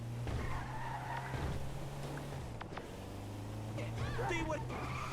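Van tyres skid during a brake boost in a driving game, a steady engine drone beneath a scraping slide that builds toward a sharp squeal near the end.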